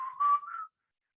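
A person whistles a brief, clear tune of a few notes that rise slightly in pitch, heard alone and close, ending abruptly into silence.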